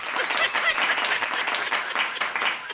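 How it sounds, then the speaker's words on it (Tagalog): Applause fills a session hall in the Philippine House of Representatives, a steady wash of many hands clapping continuously at moderate loudness throughout. "Palakpak."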